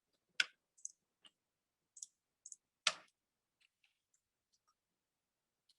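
Computer mouse clicks during a spreadsheet tracking lesson: a handful of sharp, close clicks scattered irregularly, a few louder ones, then faint soft ticks trailing off in an otherwise quiet room.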